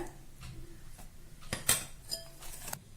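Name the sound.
mixing powdered sugar into cake batter in a bowl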